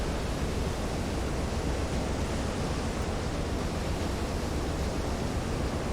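Rough ocean waves at sea in the submarine game Silent Hunter 3. Dense, even, full-band surf noise rushes continuously and loudly, with no voices.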